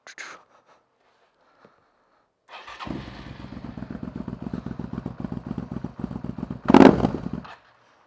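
A Suzuki SV650S motorcycle fitted with a Delkevic 200mm stubby exhaust starts and revs up close, a deep, steady engine rumble with repeated throttle blips and a sharp louder burst near the end before cutting off.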